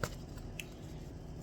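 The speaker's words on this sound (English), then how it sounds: "I'm still going to shuffle these and then cut them." Tarot cards being shuffled by hand, a steady soft papery rustle with a few crisp snaps near the start, close and fairly quiet, with no voices.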